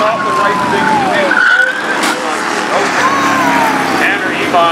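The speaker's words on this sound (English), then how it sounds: "Tanner Emon gets spun around" Race car spinning around on a track during a Bandoleros race, with tire squeal and engine whine sliding up and down in pitch under continuous commentary.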